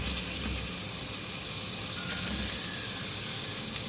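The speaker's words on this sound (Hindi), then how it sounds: "फ्राई करेंगे इसको कि कलर चेंज हो जाए चिकन का, अच्छा सा वाइट हो जाए।" Half a kilo of chicken frying in a pan with golden onions and ginger-garlic paste, a steady close sizzle with a watery hiss running the whole time, no voices.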